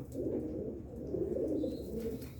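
Soft, low cooing of pigeons, repeated murmuring calls close by with faint chirps over a quiet background.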